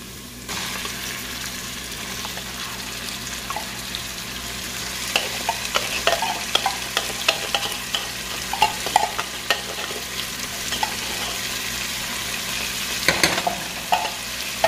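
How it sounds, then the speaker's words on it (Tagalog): Canned beef and garlic sautéing in a pan, with a steady close sizzle and scattered scraping stir strokes that grow sharper and more frequent midway, no voices. "pag ginigisa yung baka"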